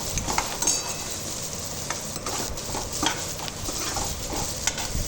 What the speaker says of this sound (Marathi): आपल्याला लसूण पण परतून घ्यायचं